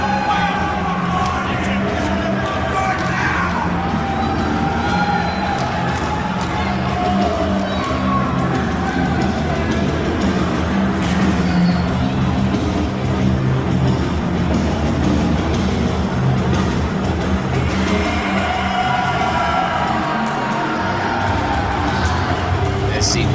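An SCW wrestling crowd roars and jeers steadily against Troy Twain, with a commentator talking over the sustained arena noise.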